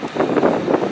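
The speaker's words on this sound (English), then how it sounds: "it is quite windy because somebody has decided, let's punch the glass out of this" Wind buffets a railway station waiting shelter with its glass panels missing, a loud, close rumbling gust with rushing noise against the microphone.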